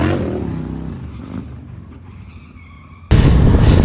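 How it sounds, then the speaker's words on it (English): A Harley full bagger motorcycle launches off a ramp set up over stairs and lands into a stand-up wheelie: a rumbling engine roar under crowd noise, then a sudden loud burst of revving at the landing. "It looks like he has a ramp up a set of stairs, catches air, jumps off the ramp, and then goes into a stand-up wheelie."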